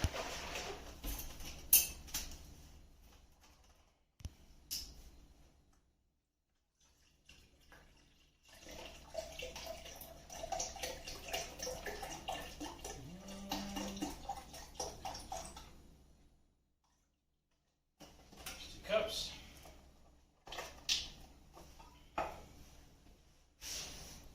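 Cups of water are poured into a pot of roasted vegetable soup, with a steady splashing, trickling stream in several separate pours broken by silent gaps, near and fairly quiet, with no talking.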